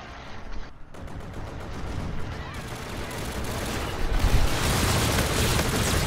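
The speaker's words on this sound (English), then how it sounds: "Yeah, they just shooting, bruh." Video game gunfire, with a busy stream of shots and blasts that builds in intensity and turns into a dense, loud barrage toward the end.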